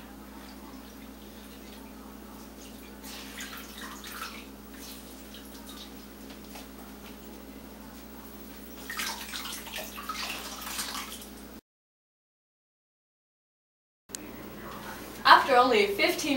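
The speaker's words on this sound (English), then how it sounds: "Notice the dripping water!" Water dripping from wet silk thermal underwear as it hangs to dry, soft drips over a low steady hum, then a brief silence and louder splashy drips at the end.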